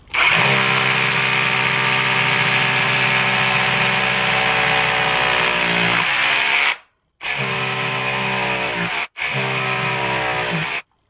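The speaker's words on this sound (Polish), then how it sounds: "Wiertło numer 6 ustawiam na wiercenie z udarem." A Kaltmann titanium cordless hammer drill bores in hammer mode with a 6 mm bit, giving a loud, steady rattling whine that runs for several seconds, cuts out briefly, then resumes in two shorter bursts.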